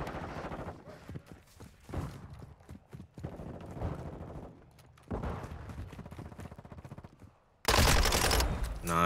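Submachine gun fire in Call of Duty Modern Warfare II multiplayer: choppy bursts of shots come in clusters across the clip, ending in a loud, dense burst of rapid fire near the end.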